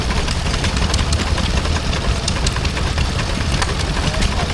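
A stationary engine runs steadily, driving a Holdenbrook centrifugal pump at a rural show, giving a continuous close mechanical chugging and rattle with no pauses.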